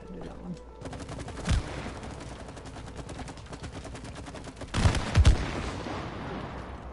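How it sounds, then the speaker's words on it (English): Explosions and rapid gunfire-like blasts in the video game It Takes Two, a dense stream of bangs with two heavier bursts around the middle and near the end, loud over a busy game soundtrack. "don't look at explosions"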